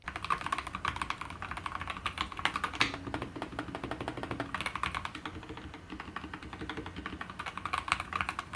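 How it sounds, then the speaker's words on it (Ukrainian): Rapid, continuous clicking of keys on a Montech MKey TKL Darkness mechanical keyboard, a dense run of close, crisp strokes with a couple of brief louder clacks and no talking. "Можливість перемикання між режимами режими RGB підсвічування без програмного забезпечення дозволяє швидко налаштувати клавіатуру під свій настрій або оточення."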